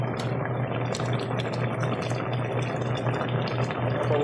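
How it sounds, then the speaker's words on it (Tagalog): Pot of vegetable soup boiling on the stove, a continuous bubbling and simmering hiss with a low steady hum beneath, close and even throughout. "Parang kumukulo."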